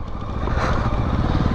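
A MASH X-Ride 650 single-cylinder motorcycle rides a trail track, its thumping engine loud and close in a short, steady burst.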